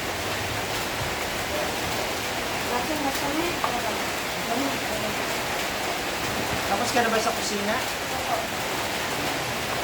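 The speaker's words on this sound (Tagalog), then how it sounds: "Siyempre, umuulan pa." Steady rain falls outside a small eatery, a dense wash of patter running under frequent conversation between a few people.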